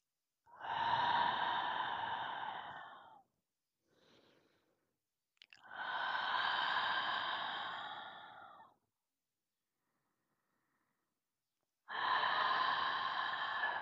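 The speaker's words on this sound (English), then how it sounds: "let us take 3 deep breaths together" Deep, slow breaths taken together during a guided meditation, long airy exhales of a few seconds each separated by quiet gaps, with a short faint inhale between the first two, close and with no speech.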